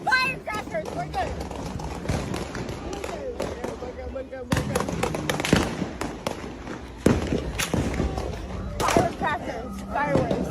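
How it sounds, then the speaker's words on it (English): Firecrackers going off in a rapid, irregular string of sharp cracks and pops, some close and loud, mixed with excited shouting voices throughout. "Firecrackers! Firecrackers! Firecrackers!"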